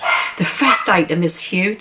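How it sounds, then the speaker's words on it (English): A dog barks in the background, in a home with several dogs, while a person talks over it in the foreground. "On cue, there's the dog barking."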